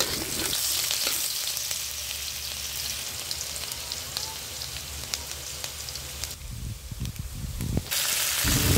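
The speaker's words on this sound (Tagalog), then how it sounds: "Ayan, magigisa na tayo guys." Sliced chayote sautés in a hot pan with a loud, dense, continuous sizzle like heavy rain, briefly dipping in intensity before surging again near the end.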